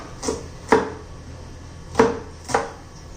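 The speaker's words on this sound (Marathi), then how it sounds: "हे पासून कांदा चिरून झालेला आहे बारीक असा." Four separate knife chops through onion on a cutting board, close and crisp, spaced irregularly with quiet pauses between them.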